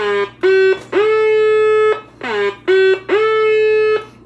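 Turned up louder, a circuit-bent vintage Peace Radio transistor radio produces bright, harsh electronic tones in repeating bursts, with choppy beeps and longer sustained buzzy notes with sliding starts, loud and close.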